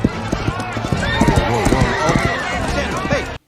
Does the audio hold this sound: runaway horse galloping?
yes